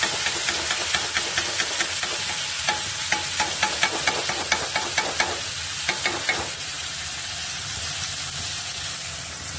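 Dried red chillies, green chillies and cumin crackling loudly in a hot pan, a dense hissing sizzle punctuated by a run of regular scraping stirs that fades toward the end.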